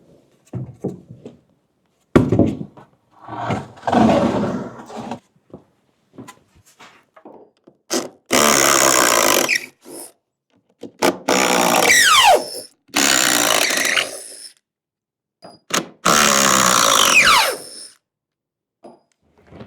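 A power tool backs lag bolts out of an old wooden shed ramp, sounding as several loud, sustained bursts of whirring drive separated by pauses, interspersed with clunks and handling knocks.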